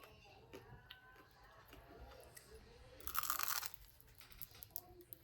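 Crunchy churros are bitten and chewed up close, with quiet scattered crunches early on, then a louder burst of crisp crunching midway, followed by fainter chewing sounds.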